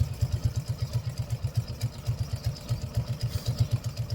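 A Yamaha 80cc four-wheeler engine idles a little too high after carburetor and battery installation, a steady low pulsing putter with even rapid firing beats, fairly close and alone without talk.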